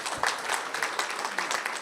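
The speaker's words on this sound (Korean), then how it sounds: "여러분 박수로 환영을 해주시고요." Brief audience applause welcoming a vice minister at a conference session on AI, labor and industry; a short burst of moderate clapping from the crowd.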